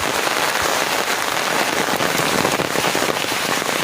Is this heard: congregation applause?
no